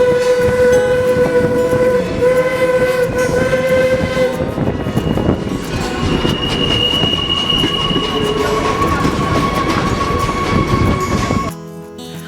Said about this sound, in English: It became known as Henry Ford's personal locomotive.